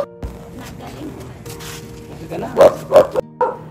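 A dog gives several short barks and yips near the end, over background chatter and a faint hum in an open space.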